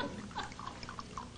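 Wine pours into a glass in a home kitchen, a short soft gurgling trickle with bubbly splashes, fairly quiet and steady throughout.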